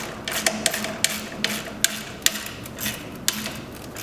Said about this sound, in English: Now go to one of the centre nuts, again pushing up, and tighten this down until it's nice and firm.